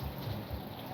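Steady rain falling outdoors in the forest, a dense, even hiss of drops with a low rumbling undertone, continuous and close, no voices.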